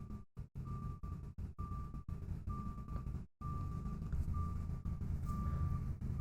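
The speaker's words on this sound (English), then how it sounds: "the loudest salt truck I've ever heard." A salt truck idles close by with a heavy engine rumble while its reversing alarm sounds repeated, evenly spaced beeps, loud and steady throughout.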